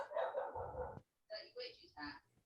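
A dog barks in short, close bursts indoors, with a few yelping, whining notes between them and a person speaking nearby.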